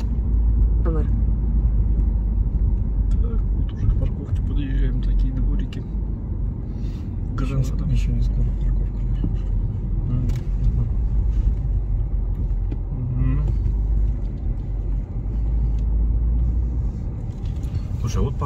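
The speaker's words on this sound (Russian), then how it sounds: "И заезжаем в город сразу в пробку." A car rolls into a city traffic jam on arrival in Granada, Spain, its steady low engine and road rumble continuing throughout, with people talking and navigation prompts over it.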